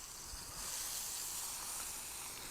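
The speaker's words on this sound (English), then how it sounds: "Going over a medium-high heat, I put my seasoned steak into the oil. And we're just going to fry that to a nice golden brown." Seasoned steak frying in hot oil over medium-high heat, a steady, soft, even sizzle and hiss held without pause, close and alone.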